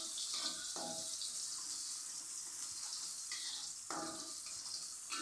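Garlic and shallots frying in a pan for an Indonesian eggplant and shredded chicken dish, a steady bright sizzle with watery hiss throughout and a few louder crackling bursts, no talking.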